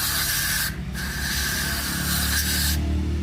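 Cleaner sprayed onto the throttle body of a TVS Apache RTR motorcycle, giving steady close hissing bursts with two short breaks between squirts.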